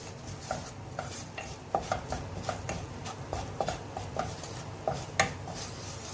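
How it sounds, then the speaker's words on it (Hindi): Maida flour roasting in melted butter in a pan for a pasta sauce, a continuous low sizzle under rapid, regular scraping and clicking strokes of a spoon stirring against the pan, with no voices. "अब इसमें हम मैदा ऐड करेंगे और इसको आपने ऐसे भूनना है मैदे को"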